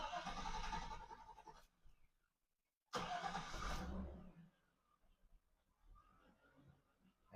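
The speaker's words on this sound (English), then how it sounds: "We'll crank the truck to make sure it's got oil pressure." A Chevrolet 2500 farm truck with a 6.0L engine cranks in two loud bursts separated by a short silence, then drops to a faint, uneven running rumble after an oil change.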